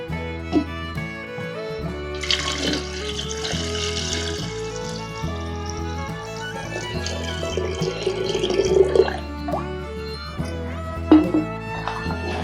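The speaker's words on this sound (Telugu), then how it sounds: "వాటర్ వేసాం" Water is poured into a bowl of Ugadi pachadi mixture at home, a soft trickling splash that comes in intermittent bursts over steady background music.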